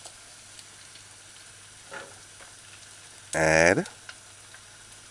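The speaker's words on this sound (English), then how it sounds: "Just allow the onions to saute a little bit." Onions sautéing in a saucepan tilted to one corner like a wok give a faint, steady sizzle, with a brief spoken word near the end.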